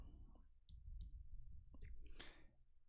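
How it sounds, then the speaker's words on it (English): Fingers typing on a computer keyboard, producing scattered, irregular soft clicks over a low background rumble, with no voices. "So now I'm typing for her."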